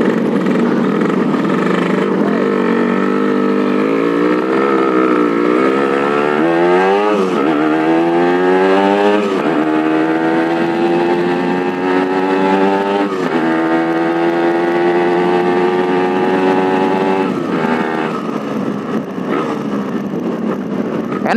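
Yamaha RX-King two-stroke motorcycle ridden hard on racing oil, its loud close engine climbing in pitch through repeated gear shifts with a rasping, buzzing two-stroke whine throughout.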